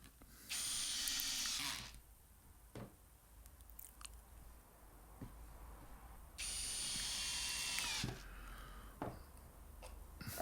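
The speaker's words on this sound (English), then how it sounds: "I'm just simply putting screws on here now just to see if the actual thing works" A drill drives screws into wood during a woodworking project, two sustained high whirring bursts with quieter handling knocks and clicks between them, close and alone.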